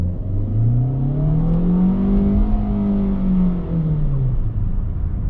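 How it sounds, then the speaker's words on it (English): A 2020 Kia Soul S engine pulls hard from a dead stop at full throttle, its note rising steadily in pitch and then easing back, loud and continuous with no talk. "We'll come to a dead stop and I'll floor it and we'll see how the engine sounds."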